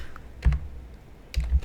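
A computer keyboard is typed on and adjusted during a Visual Basic programming lab: a few close, soft key clatters in two brief bursts with quiet pauses between.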